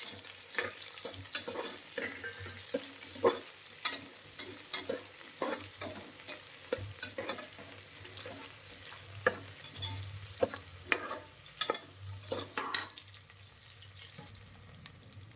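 Sliced medium onion fries with masala spices for a mushroom biryani, a soft continuous sizzle broken by frequent sharp scrapes and taps of a spoon stirring the pan, with no voices.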